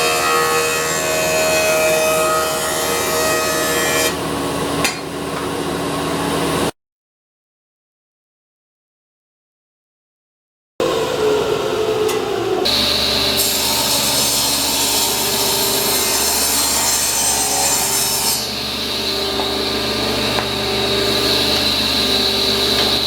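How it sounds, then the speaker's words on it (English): A wood jointer evens up the edge of a cutting board blank, a loud sustained machine whine with a shifting cutting roar, briefly cut to silence before resuming louder and steadier. "I'm going to go even this up in the joiner."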